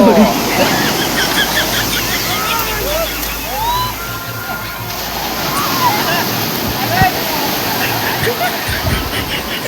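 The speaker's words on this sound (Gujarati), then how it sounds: "અત્યારે ફૂલ મોજા મારે છે પાણી" Continuous roar of sea surf washing in at a crowded beach at Madhavpur, steady and loud, with people shouting and talking over it.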